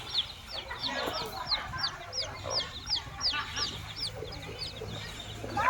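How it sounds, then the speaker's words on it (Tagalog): Chickens cluck and chirp repeatedly in the background amid outdoor ambience, with a steady low hum underneath. "May manok oh."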